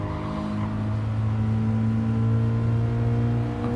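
A Subaru BRZ / Toyota GT86 engine held under throttle at Willow Springs in GT Sport, a loud, steady droning hum with a constant pitch and no voices.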